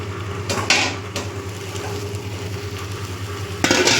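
Fish pieces coated in paste sizzle in a pan, with a constant frying hiss under a low hum and a few sharp clinks and scrapes of a utensil against the pan.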